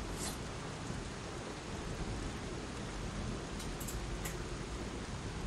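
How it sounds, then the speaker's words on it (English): Rain pours at night in the video game Lies of P, a dense, steady hiss that stays constant throughout, with no voices. "Well, now we're out in the rain."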